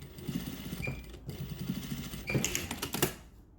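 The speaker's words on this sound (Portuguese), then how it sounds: "Em qualquer parte, comece a costurar bem na beiradinha, tá?" A sewing machine stitches along the edge of fabric for a ruffled top, giving a steady fast mechanical whirring rattle that pauses briefly midway, then runs again in short bursts before stopping.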